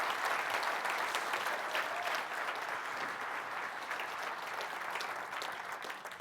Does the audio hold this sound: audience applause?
yes